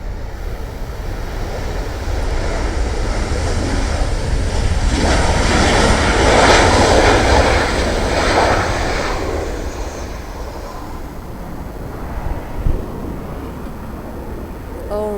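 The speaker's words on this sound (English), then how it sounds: "Lufthansa is ready for takeoff." A Lufthansa airliner taking off from the north 24L runway at LAX, a steady engine roar that swells to a broad peak midway and then fades as it moves off, with some faint background noise.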